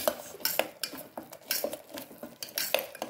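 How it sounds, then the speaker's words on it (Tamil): Masala paste with garam masala is stirred and scraped in a pan, giving a quiet, irregular run of metal spoon clicks and scrapes with faint sizzling underneath. "போட்டு நல்லா வதக்கிக்கோங்க."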